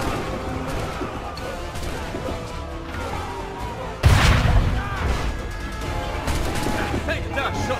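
Gunshot in the video game Assassin's Creed III, a sudden loud boom about halfway through that breaks into battle noise and game sound, with a voice speaking over it.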